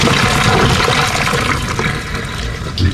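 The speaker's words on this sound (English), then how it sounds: "I'm just going to gently pour this water out." Hot water poured from a pot while preparing bread, a steady loud rush and splash of liquid lasting throughout, with no talking.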